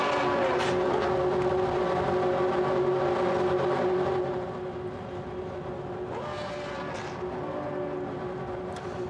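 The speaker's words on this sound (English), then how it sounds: "Engines now fire up." Formula V8 3.5 race car engines idle and rumble together on the starting grid at Paul Ricard, a dense, steady mechanical roar that eases slightly partway through.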